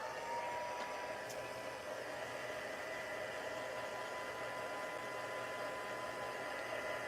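A heat tool blows a constant, soft whooshing stream of hot air while drying an altered canvas, the sound steady and moderately distant from start to finish.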